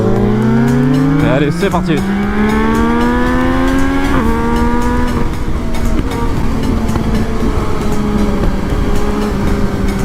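Motorcycle engine on a German Autobahn, loud and close, with rising harmonic tones as it accelerates through gears and strong wind rush throughout; a voice speaks briefly near the start.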